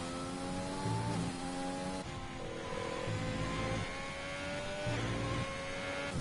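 Formula 1 cars in a racing video game, Red Bull Ring in Austria, two AlphaTauris dueling: steady high-pitched engine whine with rising gear-by-gear pitch sweeps and shifts, loud and continuous.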